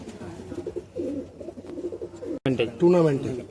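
A high-flying Madrasi pigeon, a seven-time champion, coos in soft, low, repeated murmurs inside a Kolkata loft, nearby and under a voice talking over it.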